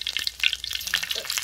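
Pork sausage fries in hot oil, throwing out quick, sharp crackles and spitting pops over a faint sizzle, close by and brief.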